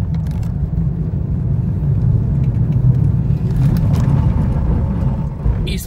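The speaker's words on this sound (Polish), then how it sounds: "Teraz delikatnie przyspieszymy." A 2017 Opel Astra K with a 1.6 CDTI diesel engine gently accelerating, heard from inside as a steady low rumble of engine and road noise that builds slightly, with no talking.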